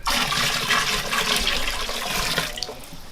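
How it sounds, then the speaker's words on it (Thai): Tap water gushes steadily into a fish breeding tank being prepared for betta fish, a loud continuous splashing pour that tapers slightly near the end, with no talking. "เดี๋ยวใส่น้ำเลย"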